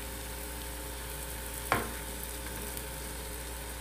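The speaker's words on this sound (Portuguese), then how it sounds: "Eu vou fritando eles no azeite." Steady, close sizzling of bread rolls frying in olive oil, with a brief clatter partway through.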